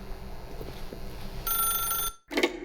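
A telephone rings in the video game The Stanley Parable, giving a bright, electronic bell tone that starts partway through, cuts off briefly and then resumes in a short final burst.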